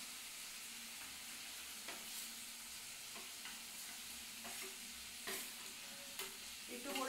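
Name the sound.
paneer being added and fried in pan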